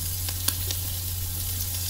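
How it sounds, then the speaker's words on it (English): Yellowtail fish eggs fry in hot oil with a steady close sizzle and faint crackles, plus a few sharper pops over a low continuous hum, no voices. "Now we keep frying this egg."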